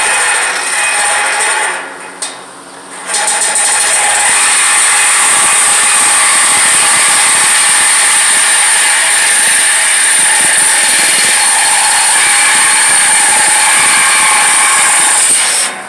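A power saw grinds loudly and continuously through the steel chassis of a Jaguar under disassembly in a home garage, close and harsh, with a brief dip near the start before it bites back in for a sustained cut.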